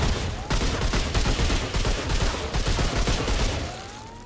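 Rapid automatic gunfire from a weapon in the video game Remnant 2 rattles out in a dense, continuous burst of sharp shots, loud and close, tapering off at the end.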